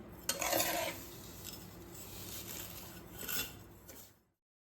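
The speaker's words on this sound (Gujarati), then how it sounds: "સેવને આપણે આ રીતે હલાયા કરવાની છે જેથી સેવ નીચેથી બળી ના જાય" Damru sev being stirred as it fries in a pan for a Holi sweet, with scraping utensil strokes and a soft sizzle; two louder stir bursts stand out over a steady frying hiss.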